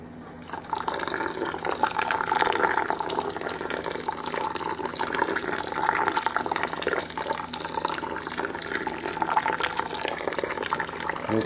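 Five gallons of hot sparge water pour steadily over mashed grain for an India Pale Ale homebrew, a continuous close rushing splash that holds at an even level throughout.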